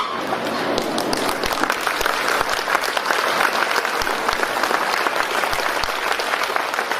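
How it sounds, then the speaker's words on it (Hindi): A standing audience at a national Buddhist vihara convention applauds guests seated on stage with sustained, dense clapping from many hands that holds steady throughout. "हम सभी लोग मंच पर बैठे अतिथियों का खड़े होकर जोरदार तालियों से स्वागत करेंगे।"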